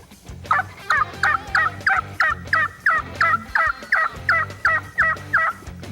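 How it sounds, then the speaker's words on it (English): A hand-operated Old Boss Hen Light raspy turkey call gives a rapid series of about fifteen evenly spaced, close, loud yelps, each note raspy and clipped, with no voices. "whether you use an Old Boss Hen Light, a raspy call"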